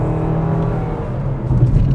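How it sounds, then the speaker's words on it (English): A 2025 Nissan Kicks with AWD running nearby, a steady low engine hum that swells slightly in its second half as if revved, heard alone without talking. "Now let's Hear that engine?"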